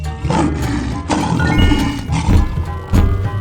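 A lion roars in a 3D animal video game, a rough, strained growl layered over bright cartoon game music and effects, with several surges of the roar across the short stretch.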